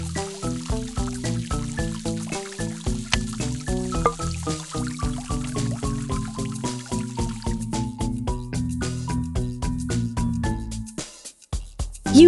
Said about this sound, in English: Move the hose and put objects on the wall to create a path for the water to reach the dog's dish.